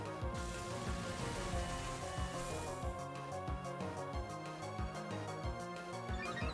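Rain weather in the Pokemon Champions video game, a steady wash of falling rain that runs the whole time under busy game music and effects, moderately quiet.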